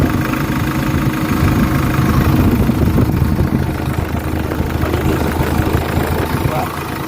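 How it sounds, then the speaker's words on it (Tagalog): A Hyundai H100 van engine idles steadily with a low, even rumble, close by and continuous throughout. "So ngayon naka-idle pa lang tayo. So tingnan natin yung andar ng engine."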